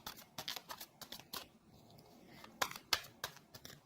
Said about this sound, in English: Let's see more cards here.